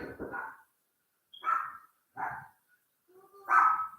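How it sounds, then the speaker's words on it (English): A dog barks indoors in four separate bursts, the first a quick double bark, then single barks spaced about a second apart, the last one loudest and slightly whining, each with clear silence between. "She's barking."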